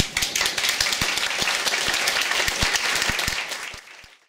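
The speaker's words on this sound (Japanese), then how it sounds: "以上、はい、じゃあ一旦拍手。" A lecture audience claps steadily for about four seconds, dense overlapping hand claps that thin out and fade at the end.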